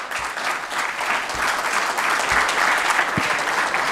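A room full of MBA students at a keynote address bursts into loud, dense applause, a continuous wash of many hands clapping close and strong, with a few sharper thuds scattered through.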